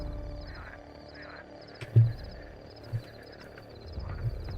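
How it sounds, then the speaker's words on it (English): Frogs croak in Minecraft, a few low throaty calls scattered over a soft ambient game soundscape, moderately close and without talk. "Oh, we're going to be hearing a lot of frogs today."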